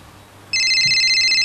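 A mobile phone ringtone starts abruptly halfway through and keeps sounding loud and steady as a bright repeating electronic tone, over a quiet room with no talk.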